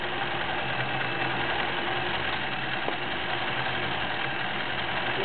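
A Janome 900 sewing machine with a 1-amp three-speed motor running at low speed, giving a steady close mechanical hum with faint rattling vibration, continuous and unbroken with no voices.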